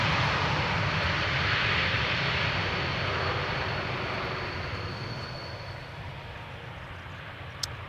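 A KLM jet airliner comes in fast to land at Amsterdam Schiphol, a loud engine roar with a faint whine that slowly fades away, ending with a brief click.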